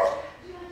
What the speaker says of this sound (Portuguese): Cachorrinho é fenomenal, ele só inventa de latir quando eu estou gravando vídeo.